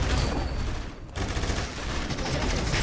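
Distant gunfire crackles in the video game Eternal Return, a dense patter of rapid shots that breaks off briefly before resuming at a steady level.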